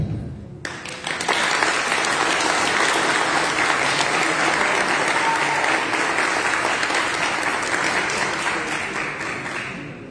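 A hall full of people applauds elected youth representatives taking office at a ceremony, with loud, dense clapping that starts sharply and holds steady for about ten seconds before easing slightly.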